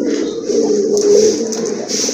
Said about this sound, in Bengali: এটা হচ্ছে আপনার নর কবুতর